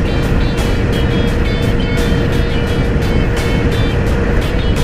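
A Shockwave 10D electric scooter runs at full throttle around 70 km/h, giving a loud, continuous rush of motor whine and wind noise with a rapid, regular pulsing.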